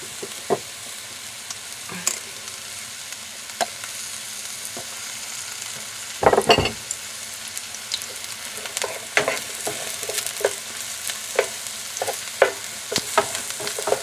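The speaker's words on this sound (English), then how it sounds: "I'll still occasionally give these onions a little toss so they don't get too brown on one side" Onions frying in oil in a pan, a steady soft sizzle with occasional clicks and scrapes as they are tossed, plus a louder rustling clatter near the middle; close and alone, no talking.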